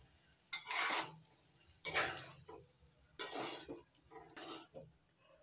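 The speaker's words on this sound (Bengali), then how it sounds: "এবার ভাতটা মিশিয়ে নিচ্ছি" Cooked rice is stirred into a mixed fried rice mixture in a pan with four distinct scraping, clattering strokes of a spatula, close and fairly loud, with quiet pauses between them.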